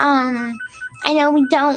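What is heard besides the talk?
telephone ringing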